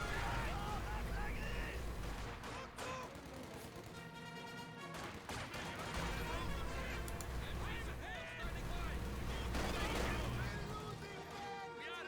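MG42 machine gun fire in a Company of Heroes 2 battle, rapid bursts mixed with artillery booms and other gunfire, loud and dense beneath a commentator's voice.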